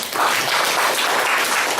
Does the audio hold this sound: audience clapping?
yes